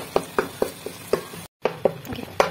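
A spoon mashes cooked, softened tomatoes in a pan for a bitter gourd and onion dish, making a series of about eight soft, evenly spaced squishy knocks, close up, with a brief silent break midway.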